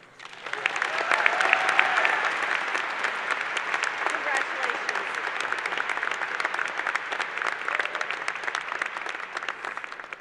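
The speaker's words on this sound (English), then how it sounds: "Can we give him one more round of applause?" Commencement audience at a College of Liberal Arts & Sciences ceremony applauding a speaker, a large crowd clapping in a dense sustained wash that swells early, then holds steady, with a few voices faintly mixed in.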